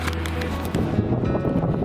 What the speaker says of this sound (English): I don't know if you can hear me because it's so windy